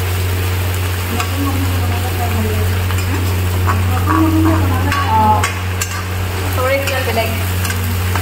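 Spices frying in a pan give a loud continuous sizzle over a strong low steady hum, with faint scraping and stirring sounds and some indistinct voices in the background.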